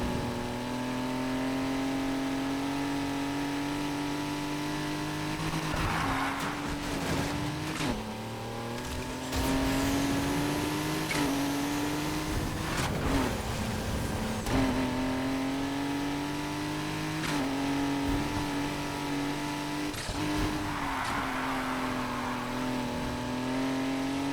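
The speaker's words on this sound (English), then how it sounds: "That blow-off valve sounds" An F1-inspired Volkswagen Beetle race car in Need For Speed Heat drones at high revs, its engine pitch climbing and dropping through gear changes with brief bursts of hiss and tire noise.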